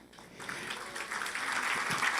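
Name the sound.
audience clapping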